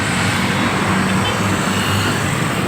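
A motorcycle passing along a road, its engine noise steady and fairly loud amid continuous broadband traffic rumble for the whole stretch, with no clear rise or fade.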